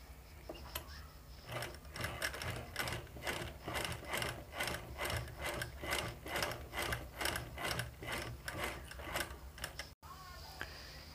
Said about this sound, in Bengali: এইভাবে মেশিনে ঘুরিয়ে ঘুরিয়ে আপনাদেরকে সেলাইটা করে নিতে হবে।